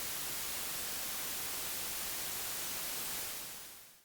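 Dolby Atmos right-channel speaker test noise, a continuous loud broadband hiss holding steady for about three seconds before tapering off at the end, with no voices.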